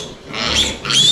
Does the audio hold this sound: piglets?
yes